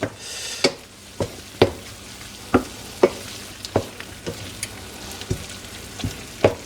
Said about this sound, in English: we're just going to let that butter get melted, nicely melty.